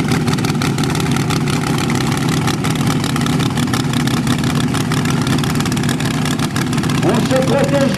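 Drag racing car engine before a quarter-mile run, droning loud and steady throughout with rough low rumble, a slight rise near the end, and crowd or announcer voices faintly underneath.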